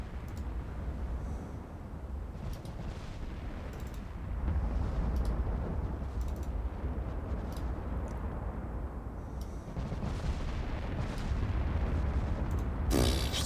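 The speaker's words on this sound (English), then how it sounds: "And we're opening fire." Naval guns opening fire on a destroyer in a Greek extended campaign war game, a sustained loud rumbling roar with a few brief bursts layered on top and a sharp crack near the end.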